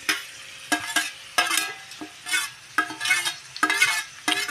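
Curry sizzles in a pan as local tomatoes and coriander go in, with a spoon stirring in repeated scraping strokes over a steady frying hiss, loud and close.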